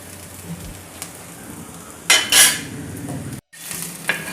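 A paratha made with bottle gourd is flipped on a hot pan and left to roast. Brief clattering bursts mark the turn, then a low, steady sizzle carries on with a couple of light scrapes and no talking.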